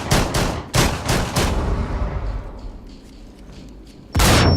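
Gunshots ring out in the Rainbow Six Siege video game: several sharp, loud cracks in quick succession, a lull with fading echo, then another loud burst of fire.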